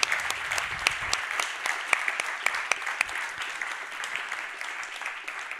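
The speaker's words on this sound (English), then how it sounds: "A big applause." An audience at an event on where the EU is heading bursts into applause, a dense crackle of many hands clapping steadily for several seconds before fading slightly toward the end.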